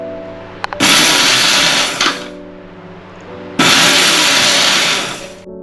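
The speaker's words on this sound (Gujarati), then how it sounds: "મિક્સરના અવાજથી આપણે થોડું કરકરું ક્રશ કરવાનું છે." A mixer grinder coarsely crushing roasted spices for red chilli pickle runs in two loud whirring bursts with a short pause between them, close and harsh, with a rattling jar.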